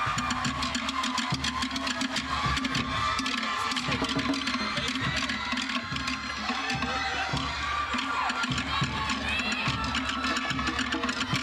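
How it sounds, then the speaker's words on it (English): Crowd at a Tahiti Fete 2024 event cheering and applauding loudly and continuously, a dense wash of claps and shouts with strong low rumble of music or engine noise underneath. "Another round of applause for these guys."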